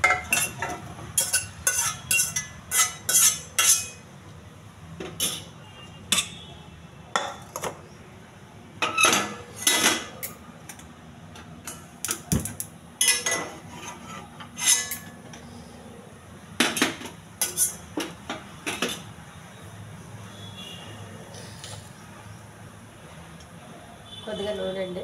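Boiled bottle gourd is moved into a bowl in a home kitchen, metal spoon and vessel clinks sounding in quick bursts and scattered single taps, close and sharp, while someone talks throughout.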